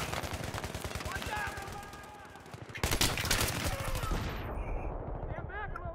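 Rapid automatic gunfire from the Battlefield 3 video game, dense bursts of shots firing in quick succession, loud and close, with a brief lull before a second heavy volley.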